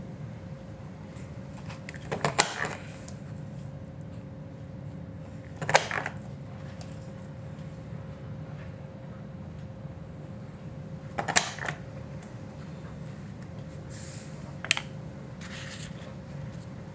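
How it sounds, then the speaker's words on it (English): A scallop border punch works along the bottom edge of a strip of chocolate chip cardstock, giving four separate crisp, crunchy clicks spaced several seconds apart over a quiet, steady room hum. "we're going to take a strip of chocolate chip cardstock and just scallop along the bottom edge"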